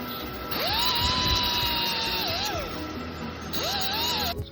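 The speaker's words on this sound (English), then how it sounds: "It's pretty oversprayed and a bit of rust, so we'll give it a wire brush." A wire brush on a power tool works rust and overspray off a chrome headlight ring from an International AB truck, giving a whining, rising spin-up that holds steady and then winds down, in two close bursts with no talk.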